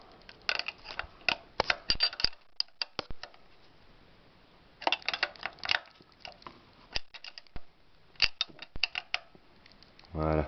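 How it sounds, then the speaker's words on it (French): Clutch lock nut being tightened on a Suzuki GSX-R motorcycle, heard as bursts of close metallic clicking and ratcheting, with quiet pauses between the bursts. "Et on va serrer le contre-écrou."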